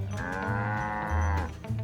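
Dairy cows at the Tarago River Cheese farm in West Gippsland: a single long, close, loud moo that rises and then sags in pitch, with other lowing faintly underneath.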